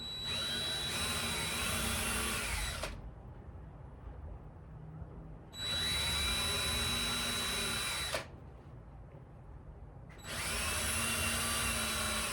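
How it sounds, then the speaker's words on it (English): A power drill drilling pilot holes for a folding shed ladder whirs in three sustained bursts of a few seconds each, loud and close, with short quieter pauses between them. "we'll go ahead and drill some pilot holes right here on this, and then screw this in"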